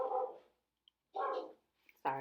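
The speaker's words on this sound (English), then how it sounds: "Sorry. Those are my dogs." Dogs in a home barking in two or three short, separate bursts with quiet gaps between them, fairly close and without talk over them.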